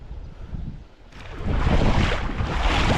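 Strong wind buffets the microphone beside a river during fishing, a quieter gust for the first second then a loud, steady roar of rushing air with low rumbling, no voices.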